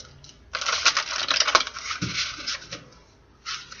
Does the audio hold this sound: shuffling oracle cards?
yes